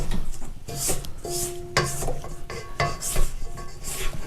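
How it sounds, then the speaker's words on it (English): A utensil scrapes around the sides of a kitchen mixer bowl holding ice cream cake batter, a series of close, short scraping and clinking strokes with brief pauses between them. "take your kitchen mixer, scrape down the sides"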